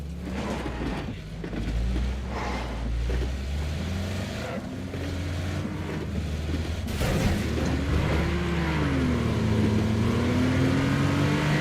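A Porsche engine drones steadily in PUBG, the car driving with a rising and falling rev, loud and continuous throughout with a brief harsh burst midway.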